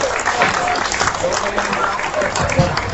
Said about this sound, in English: give all these kids who showed out here in the 5th class a nice big round of applause